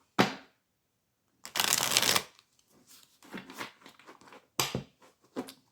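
Tarot cards being shuffled in bursts: a short riffle, a longer dense rattling shuffle, then softer scattered card handling and a few more quick riffles, close and alone without talk.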